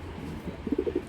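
A pair of grizzle shadle racing pigeons, bred from blue shadle stock, gives a few soft, low, rounded coos in close succession near the end, faint and close over a quiet background hum.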